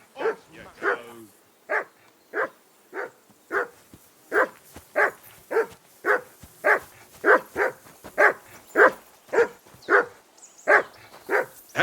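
A dog in the video game Kingdom Come: Deliverance 2 barks over and over at a steady, rapid pace, about two barks a second, with each bark sharp and clear against a quiet background.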